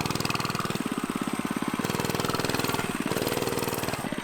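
A small mini bike engine runs with a rapid, even putter that holds close and steady, its pulse shifting slightly in pace a few times with no talking over it.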